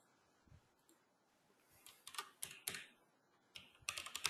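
Typing on a computer keyboard: faint scattered clicks at first, then several quick bursts of close keystrokes that grow louder toward the end, with no one speaking.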